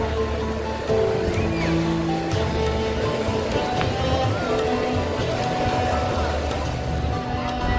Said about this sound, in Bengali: বড় বড় ঢেউয়ের অপেক্ষা করছি কখন গায়ে এসে লাগবে